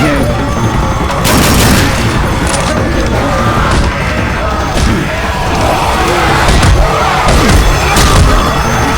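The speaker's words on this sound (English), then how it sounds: "Pipe bomb" A pipe bomb going off in the co-op shooter Dark Center, loud booming blasts mixed with crashing debris and bursts of gunfire, several heavy impacts spread across a dense, chaotic battle.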